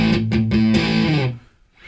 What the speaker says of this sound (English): it's worthwhile practicing these with distortion, because they're designed to be played with distortion really